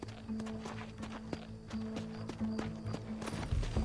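Steady clip-clop of a horse's hooves at a riding pace in the Western video game Red Dead Redemption, close and rhythmic over a continuous tonal game soundtrack, with a brief neigh near the end.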